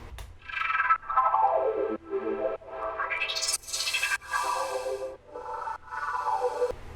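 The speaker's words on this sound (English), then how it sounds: "It's just a saw wave with unison 9 going through a randomized wavetable that I've created by just right-clicking on Harmor here and hitting randomize" Synth layer of a saw wave with nine-voice unison through a randomized Harmor wavetable in a colour bass track, sweeping up and down in pitch in repeated swells, steady and moderately quiet.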